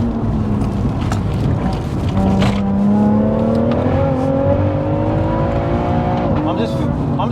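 A 730bhp big-turbo BMW M140i pulls under light throttle, its engine note rising steadily in a loud, continuous climb with a whining turbo tone, heard from inside the car as occupants talk over it.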